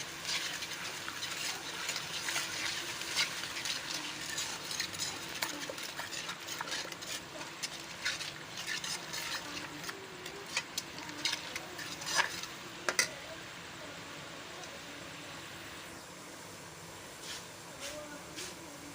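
Spiced potato curry (aloo) is stirred in a pan, with soft scraping and clinking of a spoon against the metal and a faint sizzle, fairly quiet and close, with a couple of sharper knocks.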